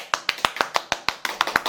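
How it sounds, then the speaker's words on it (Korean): Hands clapping in a steady, even rhythm of about ten sharp claps, close and clear, led by a presenter welcoming a guest. "박수!"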